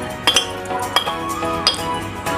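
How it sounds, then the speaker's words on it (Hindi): Mint leaves and lemon slices are muddled in a glass for a fizzy summer drink, giving a few sharp glassy clinks and taps at an irregular pace, close and fairly loud, with no talking. "फिर डालेंगे इसके अंदर हम ये लेमन स्लाइस और इनका निकालेंगे थोड़ा सा कचूमर।"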